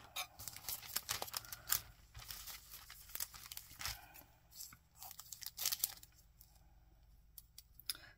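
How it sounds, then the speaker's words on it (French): Paper card being cut for an ATC Christmas collage, with a run of faint, close scissor snips and crinkly crunches at an irregular pace and no talking. "Donc je vais couper ça en 2."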